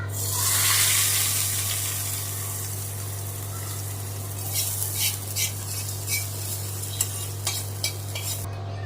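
Hot oil tempering poured into handvo batter, a burst of sizzling followed by a spoon stirring and scraping the thick batter in a bowl, with clinks against the side, close and with no talk.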